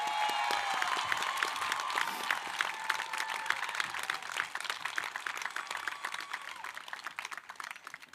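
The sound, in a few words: audience applause at a university commencement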